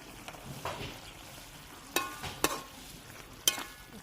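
Tomato and rice mixture being stirred in a pan, a low simmering sizzle broken by several crisp spoon scrapes and taps against the metal, close and moderately quiet with no speech.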